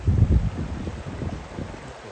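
Wind blows along the Kariktan riverfront in the morning, rumbling and buffeting close to the microphone in uneven low gusts that ease off after a strong start.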